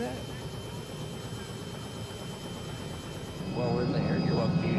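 Steady rotor and engine drone from a helicopter in flight, with indistinct voices mixed in and the noise swelling slightly toward the end.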